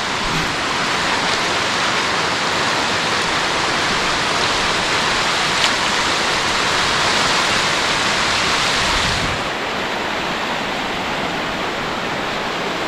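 Water rushes down the Murrokoski rapids in a dense, continuous roar that stays steady and full throughout, easing slightly in the last few seconds, with no voices.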